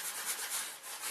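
A cloth or thumbnail scraper rubs silicone gunk off the surface of a differential cover, making a steady, close, dry scraping and rubbing hiss that continues without pause.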